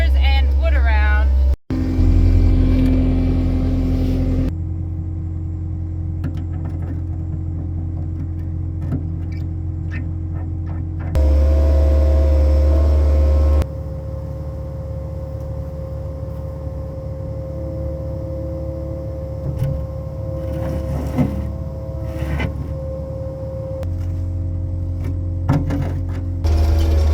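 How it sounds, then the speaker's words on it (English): A skid steer's diesel engine runs close by, shifting between a deep steady idle and louder revving stretches, broken by a sharp clunk and mechanical rattles, with speech heard at times. "Now I'm in the skid steer. We got to move some trailers and wood around."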